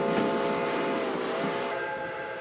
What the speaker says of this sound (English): This steam train follows the White Pass and is the gateway to the Yukon in the far north.